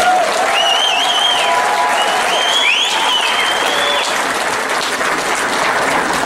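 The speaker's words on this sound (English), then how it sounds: "So one more round of applause for Grant." A crowd at a tribal college graduation ceremony applauds loudly and steadily, with a few whoops and whistles rising above the continuous clapping.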